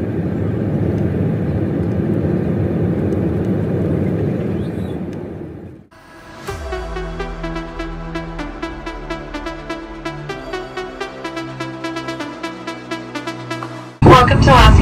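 An airliner that has just landed at Los Angeles airport: a loud steady cabin engine roar gives way to a pulsing tonal whine from the aircraft systems, ending in a sudden burst of noise.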